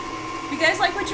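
A KitchenAid stand mixer whirs steadily while mixing batter for a cinnamon toast crunch streusel cake, a constant motor hum with slight swells, heard under a speaking voice.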